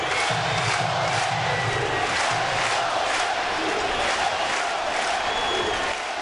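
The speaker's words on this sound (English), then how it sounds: "Crowd has been just stupendous here in the 7th inning." A baseball stadium crowd roars continuously during the 7th inning of the Chicago Cubs at New York Mets, a dense wall of cheering and shouting with faint rhythmic clapping inside it, loud and sustained throughout.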